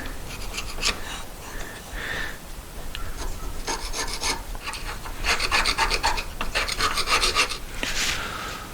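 Close, dry rasping and scraping of metal against metal in irregular bursts as carbon is scraped off 1973 Moto Guzzi pistons, growing busier and louder toward the end, with no talking.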